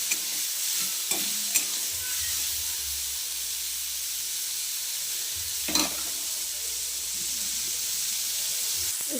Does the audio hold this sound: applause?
no